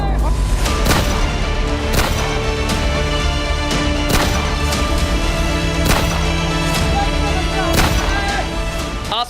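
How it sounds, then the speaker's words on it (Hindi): Live firing: sharp gunshots crack out at irregular intervals, roughly one to two seconds apart, loud and echoing into the sky over a continuous noisy background. "आसमान में हवा में गूंजती गोलियों की तड़तड़ाहट की आवाज दिल दहलाने के लिए काफी।"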